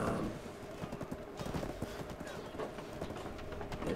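Horse hooves clip-clop in a steady, rapid rhythm in the video game Black Desert, close and continuous under a faint bed of game ambience.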